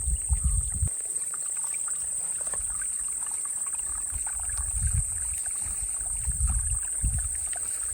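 Water flows steadily in the background with a constant high insect-like hiss, broken by occasional low rumbling thumps.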